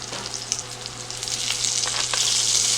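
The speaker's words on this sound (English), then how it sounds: "That is a good sear on there for sure" Steak sears in a hot pan with a steady, close sizzle and spitting crackle that grows louder and denser toward the end, with no talking.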